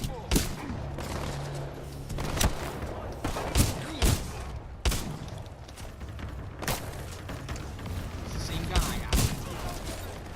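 EVA shotgun blasts ring out in Titanfall 2, sharp heavy booms fired every second or so amid game clatter, with a voice talking over the shooting.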